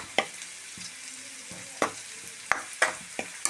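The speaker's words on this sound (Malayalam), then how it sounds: "ഒരു അരമുറി നാളികേരം ഞാൻ ചെരുകി വെച്ചിട്ടുണ്ട്, അത് നമുക്ക് വറക്കണം." Grated coconut roasts in a pan for chicken curry, with a faint dry sizzle broken by a few sharp scrapes and taps of a spoon stirring it, close and quiet.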